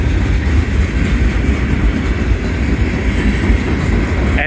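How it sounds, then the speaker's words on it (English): Union Pacific manifest freight train UP 8854 rolls past Cooper Road, heard from an elevated spot as a loud, steady, close rumble with continuous rail clatter and no talking. "I think the end of the train is actually coming up, and we have two locomotives at the end of the train."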